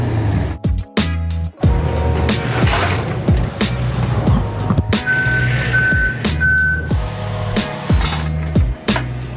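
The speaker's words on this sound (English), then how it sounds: "The fact that an Escalade could sound like a damn race car is my favorite thing ever." A Cadillac Escalade revs with a loud, aggressive race-car roar, its engine note rising and falling in several bursts over a steady rumbling idle, with a brief high tone sounding partway through.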